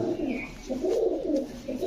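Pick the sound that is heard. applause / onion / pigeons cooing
pigeons cooing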